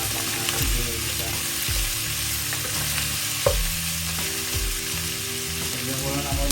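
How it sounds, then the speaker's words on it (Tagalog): Tomatoes sautéing in a pan for pork sinigang give a steady close sizzle and frying hiss, with intermittent scraping and stirring clatter throughout. "Para maturog yung kamatis habang ating ginigisa."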